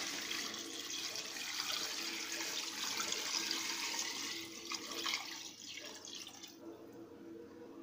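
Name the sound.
water being poured into a pot of black beans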